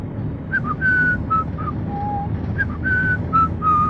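A person whistles a short tune alone, the clear tones near and fairly loud, rising and falling in two brief phrases over a low background hum.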